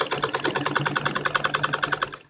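A sewing machine stitches kurti fabric while a back zip opening is prepared, giving a steady, rapid run of close mechanical stitching that slows and stops at the end, with no voices.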